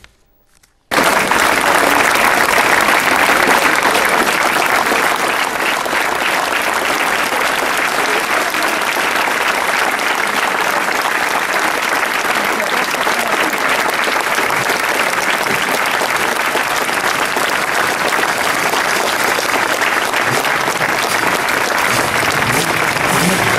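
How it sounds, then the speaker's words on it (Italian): Friends applaud as a coffin arrives at a church in Italy, steady sustained clapping from a crowd, loud and continuous after a brief silent start. "gli applausi degli amici hanno accolto il feretro di Marco Borrelli ieri pomeriggio presso la chiesa della Madonna delle Grazie."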